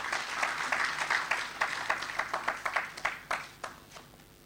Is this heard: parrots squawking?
no